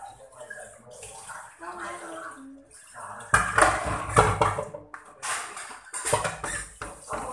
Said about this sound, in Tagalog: Maghugas po siya ng katawan.